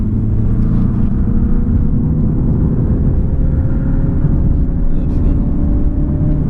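2019 Mazda 6 SkyActiv diesel held near 4,000 RPM, a loud steady engine drone with a slowly rising tone over heavy cabin rumble, continuous throughout.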